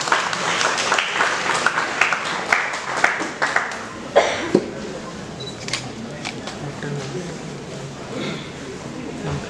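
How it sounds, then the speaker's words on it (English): Audience applause at a panel discussion event, a dense crowd clapping at moderate volume for several seconds with scattered louder claps, camera shutter-like clicks and some talk mixed in. "A big round of applause, everyone."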